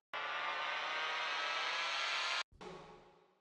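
A riser sound effect from a midtempo electronic music sample pack: a loud, dense broadband swell that holds steady for over two seconds, cuts out abruptly, then returns as a shorter burst that fades.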